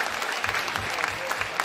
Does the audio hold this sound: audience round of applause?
yes